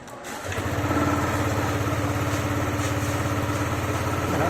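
Yamaha Aerox scooter engine starting and being held on the throttle with no idle, a close, steady mid-pitched engine drone that rises after a brief start and holds on throughout.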